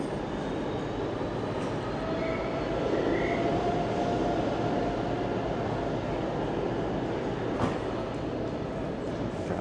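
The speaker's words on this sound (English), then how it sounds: "There's a freight going around platform 1 as well here, look." A freight train rumbles steadily past a railway station platform, a continuous loud low roar of wheels and wagons filling the scene, with brief sharper squeals and clanks near the end.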